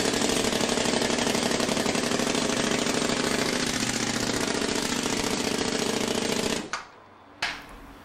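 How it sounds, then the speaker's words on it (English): A pneumatic jolt squeeze machine in a foundry compacts sand in a mold with a loud, continuous rapid hammering rattle that runs for several seconds before cutting off, followed by a single thump. "The Jolt squeeze machine pneumatically squeezes down on the squeeze board and up on the bottom board to further compact the sand."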